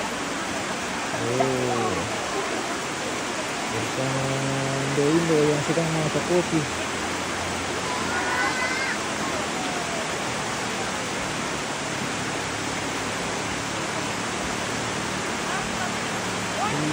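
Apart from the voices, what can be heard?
heavy rain pouring down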